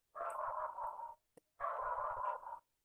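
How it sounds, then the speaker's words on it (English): A small Jack Russell terrier barks in the background in two sustained bursts of rapid yapping separated by a short pause, fairly faint and without talk. "it's my grandma's dog barking non-stop"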